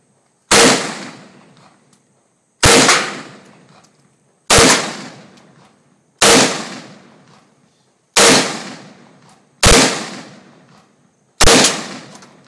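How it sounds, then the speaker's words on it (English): An AK rifle fires seven loud single shots at an even, unhurried pace, each sharp crack trailing off in a long echoing decay before the next, with no voices. "gonna shoot this close one now because I can't see what I'm hitting down there"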